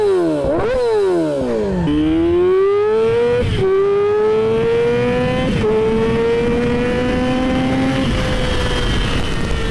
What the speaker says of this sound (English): take a listen to how this bike sounds